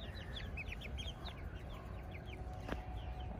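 Domestic chickens cluck and chirp in short repeated calls at moderate distance, faint over a low outdoor background hum.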